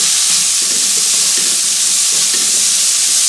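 Bacon sizzles steadily in a pan alongside oca tubers, a loud, continuous frying hiss with faint stirring scrapes beneath.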